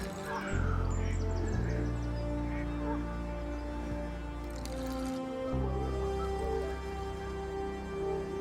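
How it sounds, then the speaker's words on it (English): Gulls calling at a carp fishing lake, several harsh cries early on over a steady low hum and background noise, fairly faint and distant. "I don't know what those gulls are doing."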